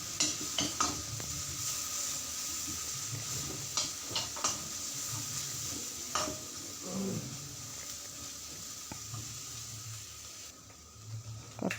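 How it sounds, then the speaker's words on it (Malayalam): Ginger-garlic paste frying in a pan while being stirred, with a steady close sizzle broken by repeated scraping and clinking strokes of the spoon against the pan, no talk. "കുറച്ച് ഇഞ്ചിയും വെളുത്തുള്ളി അരച്ചത് ഇട്ട് കൊടുത്തിട്ട് നല്ല പച്ചമണം പോകുന്നവരെ ഇളക്കുക."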